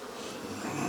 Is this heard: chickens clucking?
no